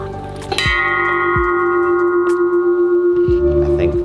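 A bell rung on a golf course, sounding a series of ringing strikes with long sustained metallic tones, louder strokes near the start and again toward the end, close by with no talk.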